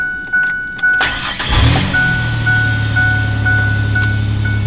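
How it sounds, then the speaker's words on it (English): A 1995 Ford Explorer engine cranks briefly and catches, then settles into a steady low idle rumble heard close by, with a faint tonal whine running through it. "Car starts."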